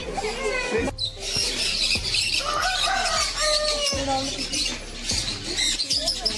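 Many parrots of different species in an enclosed cage at a pet sanctuary in Bangalore squawk and chirp loudly and continuously close by, with wing flutters and a person's voice now and then.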